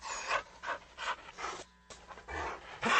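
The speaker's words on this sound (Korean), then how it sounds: "불독은 흥흥 콧소리를 내며 으르렁거리더니" A bulldog pants and snorts in steady rhythmic bursts close by, a run of huffing breaths with a brief pause partway through.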